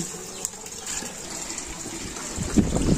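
Water gushing steadily from a tap in a mountain area of DRT, Bulacan, a close continuous rushing flow that grows louder and splashier toward the end, no talk.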